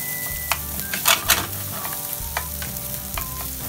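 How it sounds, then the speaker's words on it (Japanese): Egg-coated rice being stir-fried in a frying pan for soy-sauce fried rice, a close steady sizzle broken by scraping and clacking tool strikes against the pan, no talk. "フライパンにちょっと広げるイメージで炒めていくといいと思います"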